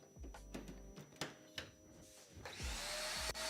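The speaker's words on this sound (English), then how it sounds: "turn on the vacuum. Might be a bit loud" A workshop vacuum cleaner is switched on at a bench after some clunks and handling knocks, its motor rising into a loud, steady whooshing whine that fills the room.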